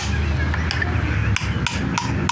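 Hammer blows on a car axle part being driven into place in a workshop: several sharp metallic strikes spaced irregularly over a steady low background rumble, close and fairly loud.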